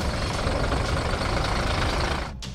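A truck loaded with goats runs its engine with a loud, continuous, close rumble that dips briefly near the end.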